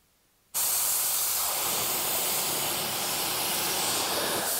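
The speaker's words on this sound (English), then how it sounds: "we're gonna shoot it on with a cheapo Harbor Freight gun" A cheap Harbor Freight spray gun shooting mixed 4-to-1 paint onto a scrap metal sign bursts into a loud, continuous hiss after a moment of quiet and holds it steadily at close range.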